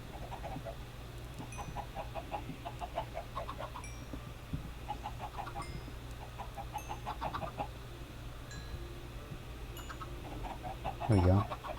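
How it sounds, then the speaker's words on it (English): Repeated clucking from a flock of chickens in a video game, steady bursts of short clucks across the whole stretch over a low background hum, ending with one louder squawk. "We have more chickens."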